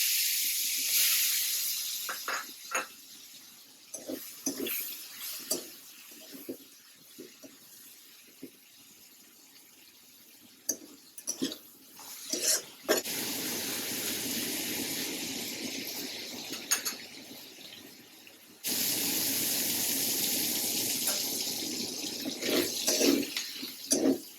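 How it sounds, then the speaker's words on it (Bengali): Prawns frying in hot oil for a cucumber-peel and prawn fry with kalonji seeds, a steady hiss that rises and falls in long stretches, with scattered clatter from stirring in between. "তেল গরম হয়ে গেছে, চিংড়ি মাছগুলো দিয়ে দিব।"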